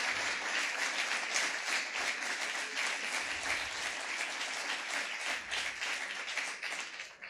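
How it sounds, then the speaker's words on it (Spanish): An audience at a magazine launch for La Negra del Sur breaks into sustained applause, even clapping from a moderately distant crowd that holds steady throughout. "quiero pedir un fuerte aplauso para todo lo que está aconteciendo aquí en este día"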